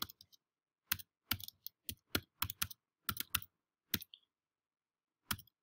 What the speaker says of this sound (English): I'm going to my mail and write the email of my teacher, Roy Lezer, at Colegio Bureche, etc.